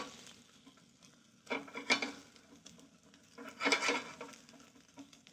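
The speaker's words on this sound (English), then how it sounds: "A non-stick pan like this is a great little" Food stirred and frying in a non-stick pan, a soft steady sizzle with two louder bursts of scraping and stirring against the pan surface, close by with no talking.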